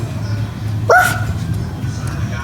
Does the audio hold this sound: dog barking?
yes